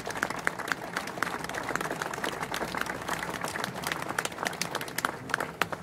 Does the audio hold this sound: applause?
yes